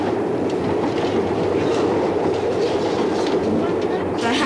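Inside a carriage of a heritage steam railway train on a British line, a continuous loud rumble and rhythmic rattle of wheels on the track fills the space, steady and close throughout.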